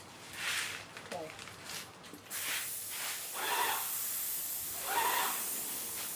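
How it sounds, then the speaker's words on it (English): Water sprayed onto hot metal being worked with a torch for a patina finish hisses and sputters in repeated bursts, close and fairly loud, with a sharp crackle near the start. "Watch how close or far away we are with the torch when we spray on this reacting layer."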